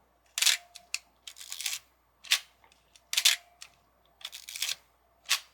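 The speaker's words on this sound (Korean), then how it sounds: "F2는 이렇게 찍 하는 소리가 나고" A Nikon F2 film camera fires its shutter several times: crisp, close mechanical clicks come in short irregular bursts with brief silences between them and no voices.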